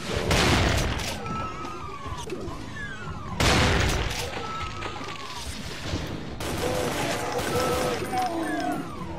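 Loud, sharp shotgun blasts and gunfire bursts in the first-person shooter Brutal Doom, several heavy shots spaced a few seconds apart amid crashing impacts and game noise, with someone talking intermittently.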